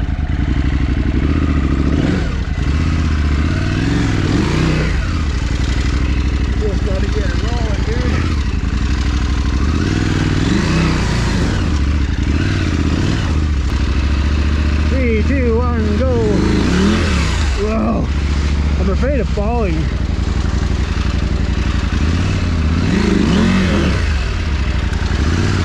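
A motorcycle engine sounds loud and close, rising and falling through repeated revs with mechanical clatter, while people talk over it.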